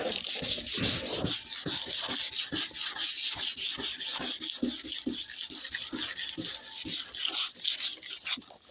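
Sandpaper is rubbed by hand across the sheet-metal tailgate of a black Peugeot 306 with light pressure while it is prepared for paint. The strokes are close and rhythmic and continue for the whole stretch.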